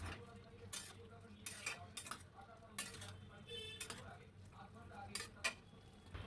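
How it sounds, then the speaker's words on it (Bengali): Fried bitter gourd is stirred in a pan, with repeated metal spoon scrapes and clinks over a faint sizzle, close and uneven in rhythm. "উচ্ছেগুলোকে বেশ ভালো করে মিশিয়ে নেব।"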